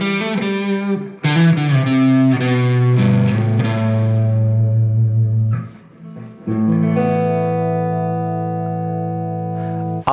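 A Gibson Les Paul 50s Standard electric guitar played through a blues drive overdrive pedal, loud sustained distorted chords and ringing notes with a brief pause near the middle, played alone without talking.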